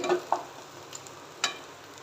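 Ground masala paste sautéing in oil over a medium flame for paneer masala, giving a soft steady sizzle with a few faint spoon-stir scrapes and clicks.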